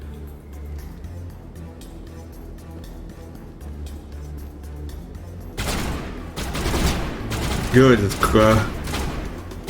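Gunfire erupts in a Mass Effect Legendary Edition battle, a flurry of rapid shots arriving in the second half over game ambience, with a brief spoken word.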